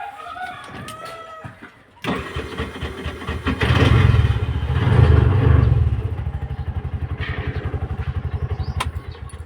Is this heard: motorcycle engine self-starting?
yes